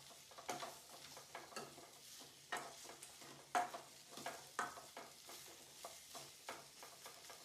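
Tomato frying over a medium flame for mutton sambar, with a soft continuous sizzle broken by repeated spoon scrapes and stirring taps against the pan, close and fairly quiet.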